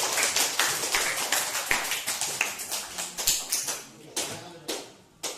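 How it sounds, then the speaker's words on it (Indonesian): Scattered hand claps ring out in a high school classroom at SMAN 2 Tebing Tinggi, a few people clapping in uneven bursts that thin out toward the end. "terima kasih tepuk tangan untuk kita semua"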